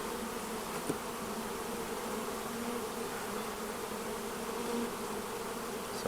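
Honeybees buzz in dense, continuous drones from a colony in hive frames packed with bees, a loud, steady hum with no talking.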